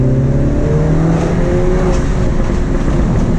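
A modified manual Mini Cooper S on the road with the windows open, its loud engine roar close by and a few sharp exhaust pops crackling over the steady drone.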